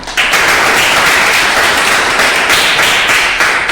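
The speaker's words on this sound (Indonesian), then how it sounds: "Tepuk tangan dulu yang menjawab tadi." A classroom of students claps for a classmate who just answered a question, a dense, steady patter of many hands close by that starts abruptly and carries on evenly for several seconds with no talking.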